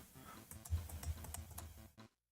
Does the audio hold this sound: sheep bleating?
no